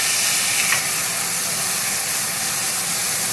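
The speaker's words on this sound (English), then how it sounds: "And you'll hear that sizzle." Smash burger patties sizzle loudly and continuously on a hot griddle, a dense, steady hiss close by with no talk.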